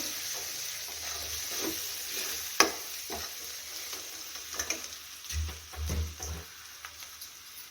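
Potato curry being stirred in a pan after red chilli powder and salt go in, a spoon scraping and knocking with several soft thuds over a low steady sizzle, with no talk.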